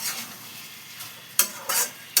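Jackfruit curry with mutton fat being sautéed in a pan, a soft sizzle broken by three loud scraping strokes of a spatula stirring it.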